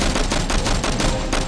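Rapid gunfire bursts in a Steven Seagal action film shootout as corrupt police storm in through the front door, loud, dense and continuous like a fusillade.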